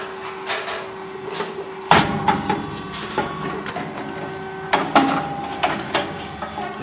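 An A502 rice cake popping machine presses whole wheat cakes, with repeated mechanical thumps and clanks over a steady motor hum, each cycle ending in a sharp pop and hiss.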